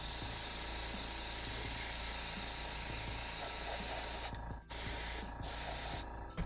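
Close, steady hiss of an airbrush spraying paint runs almost the whole time, cutting out briefly near the end between bursts.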